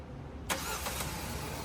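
A 2025 Omoda C9 car engine starts with a sudden burst of cranking and catching, then settles straight into a steady, even idle.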